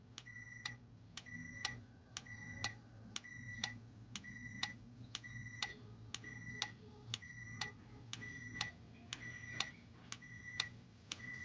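A newly installed car alarm on a Toyota Rush beeps in a steady, evenly spaced series of short electronic chirps, moderately close and clear over a low background hum.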